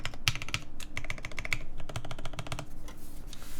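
Fast clacky typing on a QK Neo60 Cu mechanical keyboard, close up, with quick irregular keystrokes in bursts and no voices.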